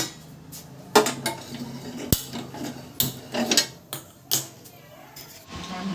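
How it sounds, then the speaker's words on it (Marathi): Metal clanks and clatters as a griddle is set down on a gas stove, several sharp knocks over a few seconds with faint room noise between. "आता इथं आपण तवा ठेवला आहे"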